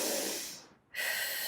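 Heavy breathing after a barefoot bootcamp workout: two loud, breathy exhales or inhales split by a brief pause, close and alone with no talk.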